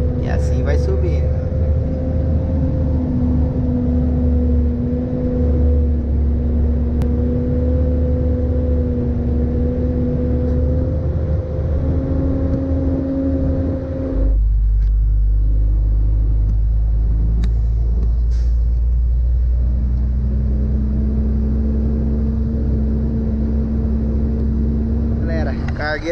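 A truck loaded with sugarcane climbs uphill in low gear, its heavy engine droning steadily and loudly, shifting to a deeper rumble partway through while someone talks over it.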